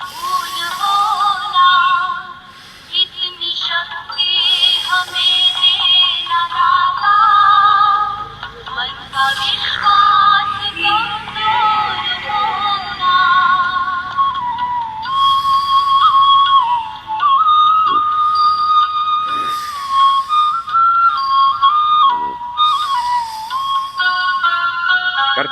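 Slow, repeated whistling breaths of Sheetali pranayama, drawn in through a rolled tongue during yoga practice while a bhajan plays. The hissy whistles rise and fall over continuous devotional music, with no speech.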